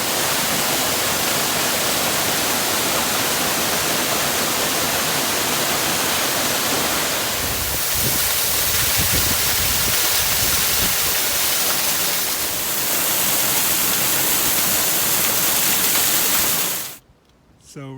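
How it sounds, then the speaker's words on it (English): Fall Creek Falls, a waterfall on a hiking trail in Alabama, roars as a loud, continuous broadband rush of falling water, with a brief disturbance near the end. "This is Fall Creek Falls."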